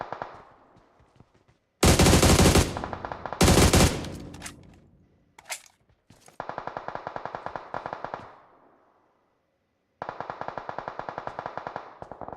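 Rapid automatic gunfire sprays in a video game shooter: two loud, dense bursts, then long steady rattling volleys separated by a brief silence, with no talking.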